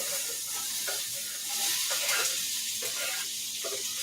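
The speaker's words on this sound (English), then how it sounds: "So let's put the onions in the pot." Onions hiss and sizzle as they hit hot oil in a pot, a continuous bright frying noise with a few stirring scrapes and a brief swell in the middle.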